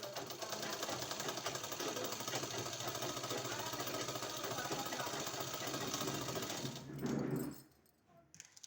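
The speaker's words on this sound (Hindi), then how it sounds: "इसी तरह से दूसरे साइड भी दोस्तों हमको सिलाई लगाना है इस तरह से।" An electric sewing machine runs continuously while stitching a sleeve, a fast, even mechanical whirr and clatter that stops abruptly near the end, leaving a quiet room.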